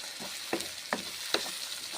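Spices stirred and fried in a pan for a Bengali bhetki fish dish: a steady soft sizzle with three distinct scraping stirs spaced about every half second, close and moderately quiet, with no talk.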